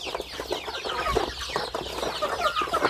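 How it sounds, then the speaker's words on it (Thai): Backyard village chickens clucking continuously as they are fed in the evening, several birds close by with overlapping clucks and cackles and no talk. "แม่ให้อาหารไก่นะครับ"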